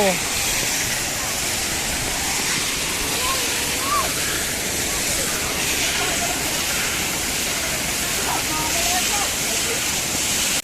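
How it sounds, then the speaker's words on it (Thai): A park waterfall at the Sky Dragon park in Suphan Buri roars as a loud, continuous broadband rush of falling water, steady throughout and close by. "มาดูน้ำตกเร็ว"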